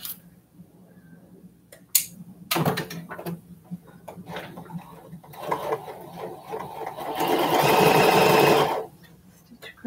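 A sewing machine backstitches in short, clattering bursts, then runs in one longer continuous stretch of rapid mechanical stitching, close and moderately loud.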